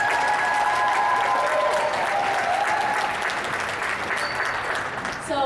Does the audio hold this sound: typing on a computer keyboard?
no